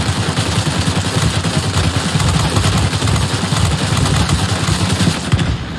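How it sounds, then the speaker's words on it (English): Machine-gun fire from a rear gunner on a Russian fighter chases a British Bulldog biplane in World of Warplanes, loud rapid bursts rattling continuously over a droning engine. "I got someone shooting behind me."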